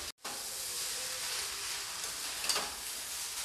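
Veg chowmein noodles with vinegar and tomato ketchup stir-frying in a pan, a steady close sizzle and hiss held for a few seconds with faint stirring scrapes.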